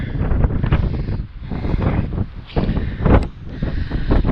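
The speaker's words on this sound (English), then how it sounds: "Very windy today." Strong wind on Aruba buffets the microphone in a steady, rumbling roar that swells and dips without a break; no one speaks.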